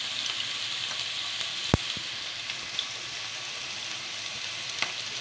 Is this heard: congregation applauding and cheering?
no